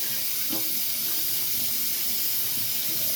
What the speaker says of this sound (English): Let me wash the soap off.